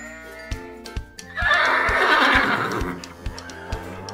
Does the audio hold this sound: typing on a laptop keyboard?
no